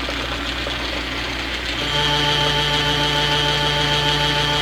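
An old 1931 South Bend lathe starts up after its headstock spindle bearings have been oiled. A soft mechanical whir before the start gives way to a steady, even hum with a tonal whine that holds to the end.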